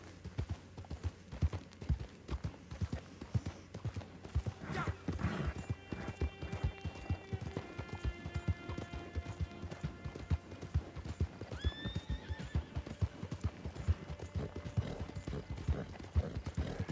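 A horse in Red Dead Online gallops with rapid, steady hoofbeats throughout, and a whinny breaks in partway, all close and fairly quiet with no talk.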